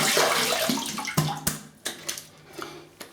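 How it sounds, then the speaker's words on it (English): Water splashing as a face and razor are rinsed after a wet shave with Proraso Wood and Spice and a Gillette Slim Adjustable: an opening wash of running water, then several close, sharp splashes and drips. "I have a little rinse and a feel about."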